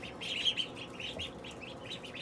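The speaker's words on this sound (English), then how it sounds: "And here are the yucky ducks." Ducks in a greenhouse, giving a rapid series of raspy repeated calls at close range over a dense background murmur.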